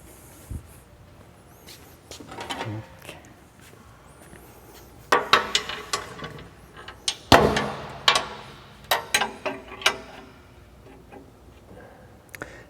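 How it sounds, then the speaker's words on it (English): A ratchet turns a bolt to square a bandsaw table to the blade, giving irregular sharp metallic clicks and clanks. They come in clusters, loudest midway, with quiet stretches between them and no talking. "as I ratchet this bolt to set the table 90 degrees square to the blade"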